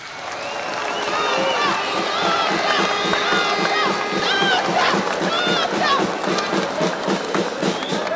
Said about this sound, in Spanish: por favor démosle un fuerte aplauso a nuestro presidente